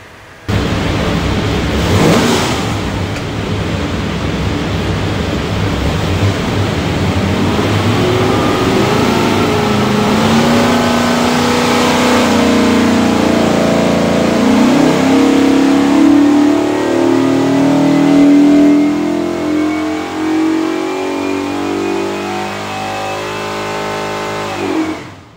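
A 427ci small-block Ford V8 with Holley Terminator X EFI and a rear sump pan roars loudly on a dyno. The engine climbs steadily through the revs in one long pull, then drops off at the end.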